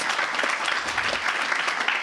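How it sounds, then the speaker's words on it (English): Audience applause fills a Bristol synth-meetup hall at Machina Bristronica 2023, a steady, dense wash of clapping from a crowd that holds at full strength throughout without a break. "Round of applause to those guys"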